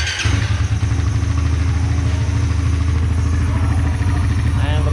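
A Raider 150 FI motorcycle engine runs steadily and close with a loud, even throbbing drone through the whole clip, sounding more like sustained running or idling than revving.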